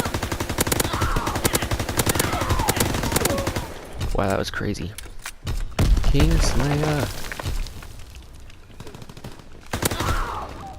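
Rapid automatic gunfire from hip-fired weapons in Call of Duty WW2 multiplayer, dense loud rattling bursts that pause and resume, with a player talking in between.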